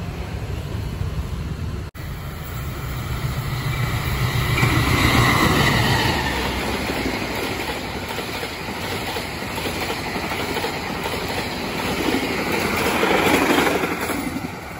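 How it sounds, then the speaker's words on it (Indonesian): The Malabar passenger train rumbles past nearby with steady rolling noise and rhythmic wheel clatter, swelling and easing over about fifteen seconds, no voices. "itu tadi kereta api Malabar ya"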